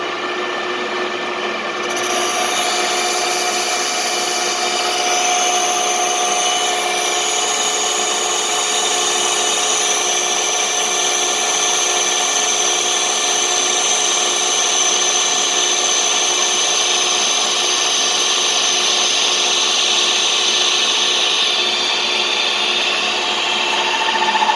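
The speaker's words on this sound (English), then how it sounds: "I'm just going to run this, cut this part real quick" A metal lathe turning at 840 RPM and cutting a part dry without coolant, a loud, steady, continuous whine and grinding hiss that holds unchanged for about twenty seconds after a brief quieter start.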